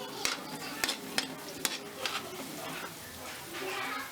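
Chicken feet adobo browning in a pan, stirred with a utensil: repeated scraping clinks over a steady sizzle, close and moderately loud.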